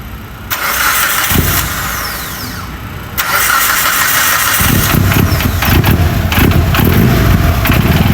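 Built Mitsubishi Evo 8 with a 2.0-litre turbo engine cranks and fires up, running rough: a starter whir, then the engine catches into a loud, lumpy, uneven idle, close up.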